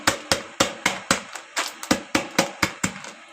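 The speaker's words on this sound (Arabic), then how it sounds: "البلح بتاعي ناشف قوي، فانا حطيته سايباه في الكيس كده، وهجيب الشاكوش وهكسره كده" Hammer blows strike dried dates inside a bag in a kitchen, about a dozen sharp, evenly spaced knocks in steady rhythm, close and fairly loud, with no talking.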